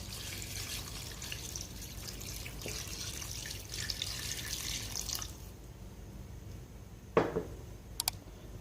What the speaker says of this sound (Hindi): पानी मैंने इसके अंदर शामिल किया है 4 गिलास भर के